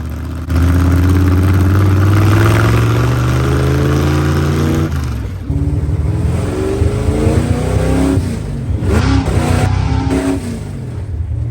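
A supercharged 1956 Chevy V8 roars loudly at full throttle, its pitch climbing and falling as it revs hard, then easing off before surging again.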